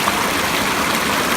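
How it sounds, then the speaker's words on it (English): Snow melt stream in the Swiss Alps rushes steadily over rocks nearby, a loud continuous wash of running water with no break. "running water, probably snow melt"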